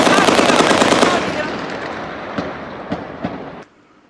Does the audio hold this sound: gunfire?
yes